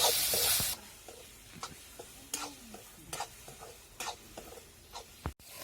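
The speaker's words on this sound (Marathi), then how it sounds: "तर आपण तंबाटे आणि कांदा चांगला परतून घेतलेला आहे" Onion and tomato sauté in a pan for pav bhaji puree, a steady sizzle under repeated scraping strokes of a spoon, with a louder hiss at the start and a sharp clunk near the end.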